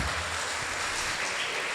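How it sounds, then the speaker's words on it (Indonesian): An audience applauds at a Muhammadiyah and Aisyiyah regional assembly in Pamekasan, a dense, even wash of clapping that holds steady for the whole stretch. "Tepuk tangannya."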